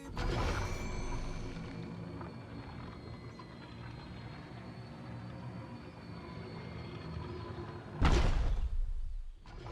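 A rotating stone door on the Lotus map in Valorant turns with a steady low mechanical grinding rumble for about eight seconds, ending in a sudden louder thud-like burst.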